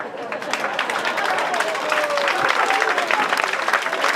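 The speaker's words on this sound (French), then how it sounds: "Donc, vous applaudissez Macron." An audience at a French political summer-university talk applauds in a steady, dense wash of clapping, fairly close, with voices mixed in underneath.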